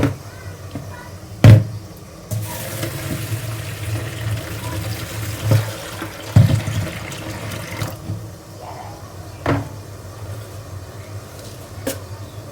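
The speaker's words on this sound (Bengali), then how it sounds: "এই তো মুগ ডাল ভেজাবো" Water poured into a bowl to soak mung dal for khichuri in a home kitchen, a steady low wash of liquid running for several seconds with a few louder knocks and clatters, no talking.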